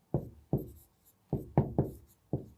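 Six distinct knocking strokes of a marker or chalk writing on a board, spaced irregularly and heard close and clear in an otherwise quiet room.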